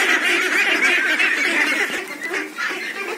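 Many young ducks peep and chatter continuously nearby, a busy, high-pitched twittering with soft pecking sounds as they feed on grain.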